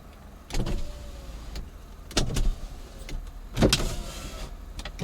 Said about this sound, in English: Let me lower the window a little.